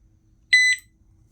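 A single electronic chirp from a motorcycle lock alarm, a bright high-pitched double beep lasting about a quarter second, clear and alone against quiet background.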